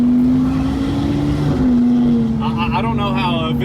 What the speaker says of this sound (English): I don't know how a Aventador drives, so I'm just like, you know, just driving it.